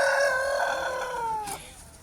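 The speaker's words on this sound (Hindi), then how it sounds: "मुर्गे का जोड़ा" A rooster, one of a pair roaming near a rubbish heap, lets out a loud, close crow that holds for over a second before tailing off sharply.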